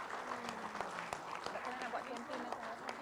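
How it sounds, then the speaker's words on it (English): An audience at an Asia Pacific family business summit applauds in a sustained, even patter of many hands, faint and distant, with a voice talking over it. "give all of us a big round of applause"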